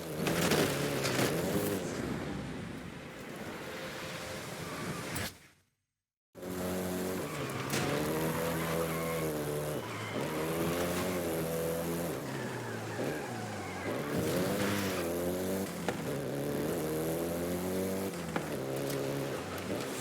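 A Volkswagen Golf GTI in Forza Horizon 5 revs and accelerates with rising and falling engine tones through repeated gear changes and occasional tire squeal, broken by a brief silent gap early on.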